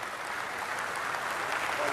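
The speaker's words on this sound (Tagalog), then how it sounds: "Palakpak doon." An audience at a political speech breaks into steady, dense applause, a continuous wash of clapping filling the short moment at even loudness.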